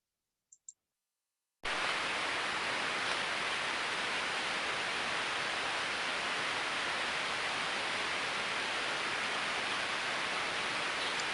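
Ultrasonic listening on a good slow-speed bearing gives a smooth, steady hiss like uniform white noise that starts abruptly after a couple of faint clicks and then holds unchanged at low level.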